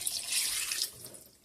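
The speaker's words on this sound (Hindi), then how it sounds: "हस्बे जायका हम इसमें सुर्ख मिर्च पाउडर डालेंगे और पानी ऐड करेंगे।" Water pours into a cooking pot of meat seasoned with pink salt and red chili powder, a brief bright splashing stream that tapers off after about a second.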